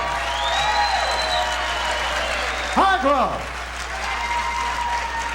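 Boxing crowd applauding after a bout ends in a TKO, a continuous roar of clapping and cheering at a distance, with an announcer's voice cutting through briefly midway.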